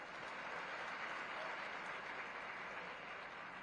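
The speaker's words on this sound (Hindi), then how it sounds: "तालियां।" Steady applause from an audience at a saint-gathering ceremony during the Magh Mela, a dense continuous wash of clapping that holds level and fairly loud for a few seconds without a break.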